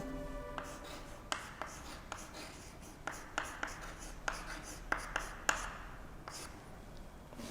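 A pen scratching out a file format by hand on paper, in a run of short, quick strokes with small taps, close and fairly quiet, with no talking.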